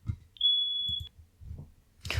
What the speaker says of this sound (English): So I wanna do again a little beeping, right?